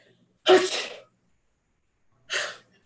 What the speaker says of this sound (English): Why are you sneezing?